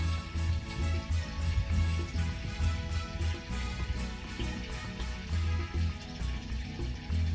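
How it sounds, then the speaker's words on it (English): Water runs steadily from a tap into a narrowboat's water tank, a continuous low rushing fill with a faint rhythmic pulsing and no talk. "We filled the water tank and prepared the boat for our August cruise."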